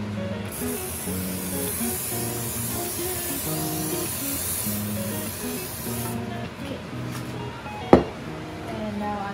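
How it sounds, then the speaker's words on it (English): A long continuous hiss of an aerosol spray, close and steady for several seconds, then stopping, followed by a single sharp knock. "now I'm gonna put this spray on"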